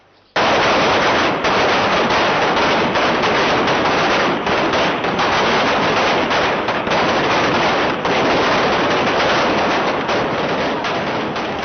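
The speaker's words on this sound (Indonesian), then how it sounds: "Suara tembakan di pagi hari itu mengakhiri pendudukan 6 hari pelabuhan Sape" Sustained heavy gunfire rings out as police forcibly break up a six-day occupation of Sape port by thousands of residents, a dense, continuous crackle of rapid shots lasting throughout with no pauses.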